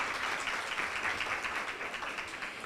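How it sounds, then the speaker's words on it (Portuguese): Audience applauding a guest speaker at a lecture on Freud and Machado: a steady, even wash of many hands clapping, fairly distant and uniform, with no talk over it. "Uma salva de palmas, por favor"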